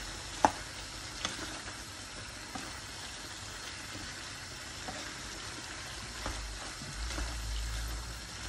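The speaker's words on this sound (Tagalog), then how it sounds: "Haluin lang natin yung ating lechon." Steady sizzling from a pan of lechon paksiw (pork) with occasional scraping clicks of stirring, a soft bubbling bed throughout, no voices.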